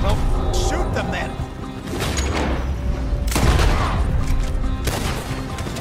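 Repeated gunfire in a Red Dead Redemption 2 shootout in town, with bursts of shots and heavy booms cracking through continuously, loud and close, with talk mixed over the fighting.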